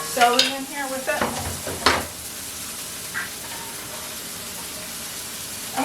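Celery tipped into a pan for cottage pie, with stirring scrapes and a few clattering knocks early on, then a steady soft sizzle of frying carrying through to the end with no talking.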